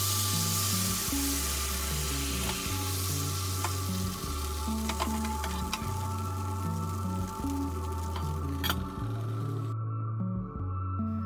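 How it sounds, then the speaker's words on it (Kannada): Mustard seeds, curry leaves and dried chillies tempering in hot oil give a steady, close sizzle and crackle for the whole stretch, with low, repeating tonal notes running underneath. "ಒಂದು ಸ್ವಲ್ಪ ಎಣ್ಣೆ ಜೊತೆ ಸಾಸಿವೆ,"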